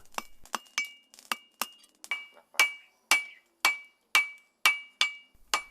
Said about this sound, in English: transmogrifying under the hammer blows into an excellent Damascus steel